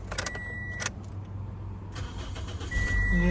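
A Toyota Corolla engine, recently repaired after cranking without starting, is started: a jingle of keys and a short whir, then the engine cranks and catches with a low rumble that swells near the end.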